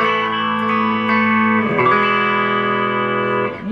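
Electric guitar with reverb added through a BOSS Dual Cube mini amp, sustained chords restruck a few times with a lingering wash, close and fairly loud, no voices.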